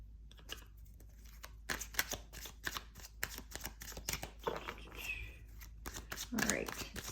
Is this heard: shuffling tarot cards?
yes